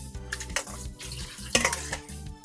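Cooked soba noodles are rinsed under running water in a kitchen sink for a quick wash, with steady splashing and clattering of noodles and bowl against the basin, no talking.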